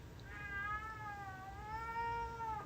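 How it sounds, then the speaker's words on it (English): A cat meows with a sock held in its mouth, giving one long, drawn-out, wavering muffled call, faint and alone. "That's a cat meowing around a sock in her mouth."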